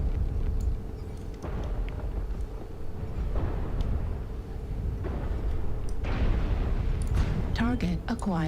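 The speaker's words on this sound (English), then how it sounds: "Artillery strike online." Artillery strike explosions in the MechWarrior Online video game, heard as a sustained low rumble with several heavy booms and a loud blast near the end, mixed with game voice announcements.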